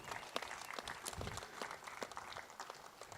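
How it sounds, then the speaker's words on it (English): Applause for the champion of a golf tournament, the Tamil Nadu Open in Coimbatore: soft, scattered clapping from a modest outdoor crowd, faint and distant, continuing steadily throughout. "Big round of applause for the champion."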